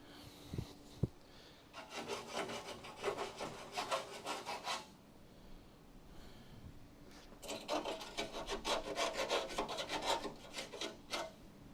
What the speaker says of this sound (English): Let me get the files out so we can fix the burr.